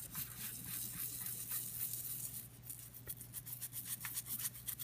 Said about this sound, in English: We got a toothbrush,